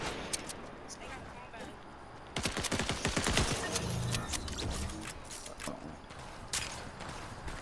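Bursts of rapid gunfire in the Fortnite video game, a cluster of sharp shots mid-way standing out over ongoing game noise and players talking.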